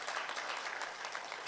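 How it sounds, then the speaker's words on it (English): Applause from a conference audience at a men's conference on positive masculinity, a brief, faint, steady wash of clapping with no voices over it. "Let's give them a huge round of applause."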